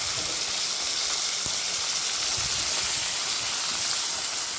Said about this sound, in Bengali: এবার হচ্ছে কড়াইতে দিয়ে দেবো পেস্ট